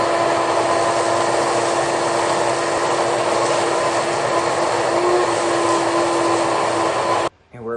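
A repaired household vacuum cleaner runs steadily at close range, a loud continuous whine with a constant tonal hum that holds for about seven seconds before cutting off abruptly.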